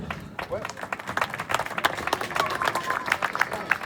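Applause from a festival audience, dense irregular clapping with individual sharp hand claps standing out, steady and moderately loud, with voices talking over it.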